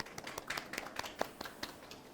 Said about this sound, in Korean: 그럼 큰 박수로 양태진 교수님을 모셔볼까요?